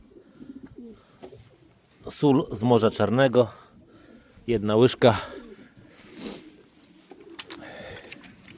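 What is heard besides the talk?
pigeons cooing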